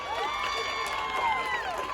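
A crowd at a public address cheering and whooping with some clapping, fairly distant and brief, blended with general voices.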